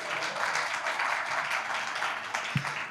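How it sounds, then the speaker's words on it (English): Audience applause at a book launch in a bookshop, a steady dense patter of many hands clapping throughout, fairly near and continuous without a break. "I'm going to give you a moment to clap for her while she's here"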